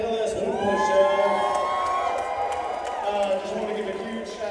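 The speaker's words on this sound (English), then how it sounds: "Gets a round of applause there from all of his fans in the crowd" Crowd at an MMA event cheering and whooping for a fighter, a steady roar of voices with scattered shouts that carries on throughout, with a voice talking over it.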